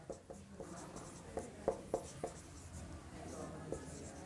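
Marker or chalk writing on a board during a class 12 maths lecture, with a series of short, faint tapping strokes and scratches at an irregular pace over a quiet room background.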